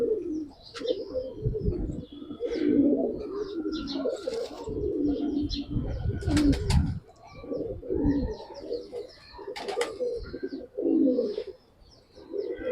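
Pigeons coo continuously from their boxes in a home loft, a steady layered murmur of soft throaty calls with occasional chirps and faint wing sounds, close and fairly loud throughout, with no talking.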